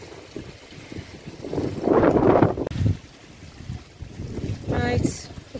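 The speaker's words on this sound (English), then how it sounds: "it's a very windy, horrible day" Strong wind gusts outdoors on a blustery day, buffeting the microphone in rumbling surges that rise and fall, with a brief faint voice near the end.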